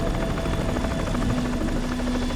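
A helicopter in Metal Gear Solid 2 gives a steady, loud, whirring rotor thrum with a sustained mechanical whine layered over it, continuous and close, with no speech.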